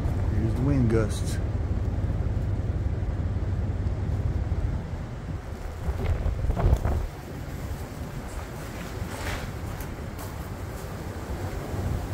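Wind gusts buffet the microphone outdoors on the Appalachian Trail in snowy weather, a steady low roar that surges and eases, with a voice heard briefly near the start.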